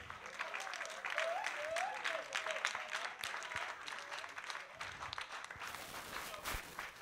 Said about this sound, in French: ça s'applaudit très fort